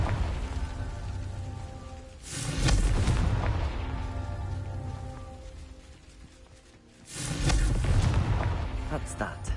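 Confringo fire-blast spell explosions in Hogwarts Legacy, two loud, booming bursts several seconds apart, each followed by a crackling, rumbling tail that slowly fades.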